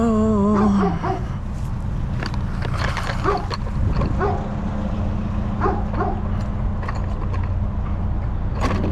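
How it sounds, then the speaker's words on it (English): A big dog barks in a series of short, loud barks over a steady mechanical engine hum on a street while scrapping from dumpsters. "And a big dog."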